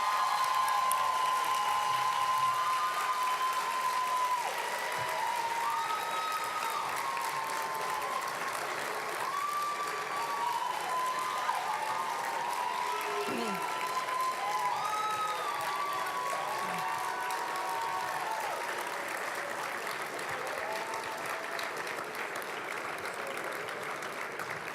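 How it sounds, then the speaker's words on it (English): At a college commencement ceremony, graduates applaud their faculty, staff, friends and family with sustained, even clapping from a large crowd in a hall. A few cheers come through and some voices carry over the clapping. "Graduates, I now invite you to take a moment to thank with your applause all those faculty, staff, friends, and family"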